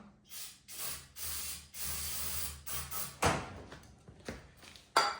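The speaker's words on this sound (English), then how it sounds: "We'll give it one more squirt, and then I'll just start putting gas in it instead of cleaner." Carburetor cleaner is squirted into a car engine in several short, hissing spray bursts with brief gaps between them, followed by a couple of sharper clicks near the end.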